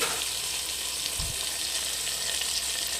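Tomatoes frying in hot oil for a wedding-style vegetable sambar, a steady close sizzle with a brief stir or clatter partway through.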